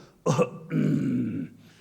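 A voice gives a gruff, deliberate throat-clearing 'ahem' during a church sermon, imitating a haughty nobleman: a short sharp burst followed by a longer voiced rasp.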